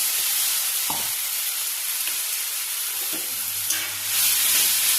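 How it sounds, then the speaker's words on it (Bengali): Ginger and chili paste frying with browned onion, garlic and tomato in a pan, a steady loud sizzle with a few scrapes of stirring. "আদা আর মরিচের পেস্ট দিয়ে একটু কষিয়ে নেব"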